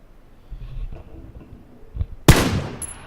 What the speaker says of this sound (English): I'm trying to pop a shot at this guy.